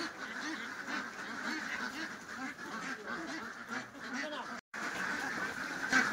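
Many Pekin ducks quack continuously in a busy, noisy flock in a duck pen, steady nasal calls overlapping close by with a brief dropout partway through.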